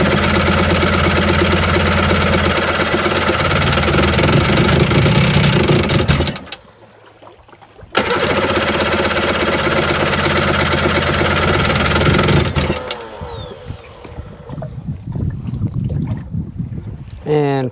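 Seadoo RFI 787 jet ski engine with a hard-start problem, roaring loud and steady at full throttle, cutting out abruptly, then surging back at full power before dropping to a rougher, quieter running note.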